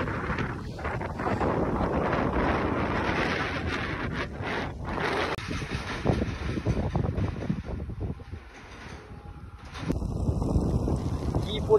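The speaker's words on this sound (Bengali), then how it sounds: "কি পরিমাণ বাতাস একবার চিন্তা করেন" Strong wind blows across Harba Beel wetland in Trishal, buffeting the microphone with loud gusty roaring that eases briefly near the end and then surges back.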